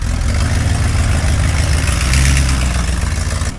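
Mercedes 350SL engine idling rough in a workshop, a loud, uneven low rumble that runs steadily throughout with no talking.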